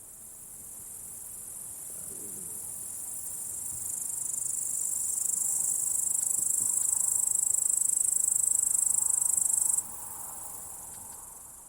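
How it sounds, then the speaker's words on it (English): Meadow soundscape in the Altai Mountains: a dense, steady high-pitched chorus of crickets and other insects drones continuously, gently swelling in the middle and dropping slightly near the end, with faint buzzing underneath and no voices. "I will play you the meadows of the Altai Mountains"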